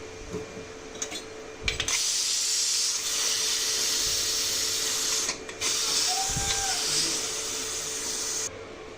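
A pressure cooker cooking lentils with tamarind leaves lets out a loud, steady hiss of escaping steam after five whistles, running for several seconds with only brief breaks.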